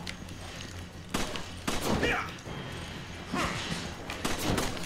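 Bursts of gunfire and heavy thuds from the Resident Evil 5 Lost in Nightmares game come in several loud clusters, with faint game sounds between them.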